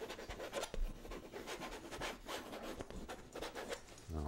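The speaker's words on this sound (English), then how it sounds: "Just scraping this in." Dark orange paint scraped onto a canvas during a landscape painting session, a quiet, steady rasping and rubbing texture with short strokes repeating through the passage, no voices.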